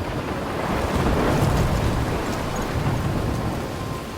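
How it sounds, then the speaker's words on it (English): A storm rages in the video game Life is Strange: a steady, loud wash of wind and rain with rumbling thunder, continuous for the whole stretch, with no voices. "I'm trapped in a storm?"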